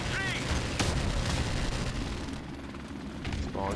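Grenade explosion in a Call of Duty game, a heavy boom with rumbling debris amid ongoing gunfire and battlefield noise, close and loud, with a voice faintly present.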